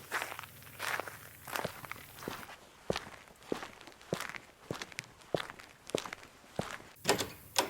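Steady, deliberate footsteps walk along a long corridor after an entrance door opens, each step a distinct, fairly close thud at an even pace in a quiet interior.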